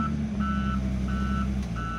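A car reversing into a spot at a house sounds its reversing alarm: four evenly spaced, loud electronic beeps repeat over a steady low engine rumble.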